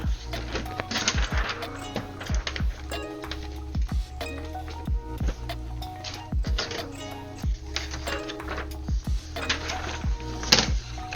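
A home printer being loaded with a regular sheet of paper gives off a series of close clicks, taps and short mechanical rattles in an irregular rhythm, with quiet movement between them.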